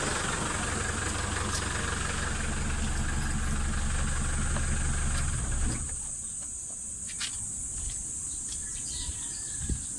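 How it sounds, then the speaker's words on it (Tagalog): A Mitsubishi Adventure engine idles with a low, steady rumble for about six seconds, then cuts off, leaving quiet outdoor ambience with insects chirping. "Tayo ko na yung makina."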